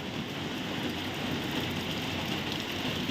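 Light rain falling at Guruvayur temple at night, a steady, dense hiss of drops on surfaces, continuous and even throughout.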